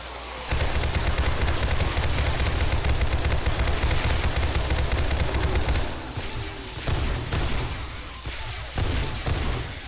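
Rifle fire with 5.56 rounds in the survival video game 7 Days To Die, rapid sustained bursts of shots dumped in a dense stream, loud and close, with brief pauses near the end.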